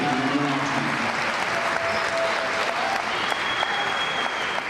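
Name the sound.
crowd applauding five volleyball seniors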